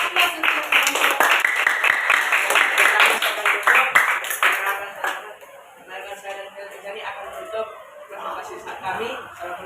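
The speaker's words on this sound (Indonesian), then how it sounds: "Beri aplaus untuk kelompok." Applause and clapping break out from a classroom of participants for a presenting group, loud and dense for about five seconds, then thinning into scattered claps and chuckles.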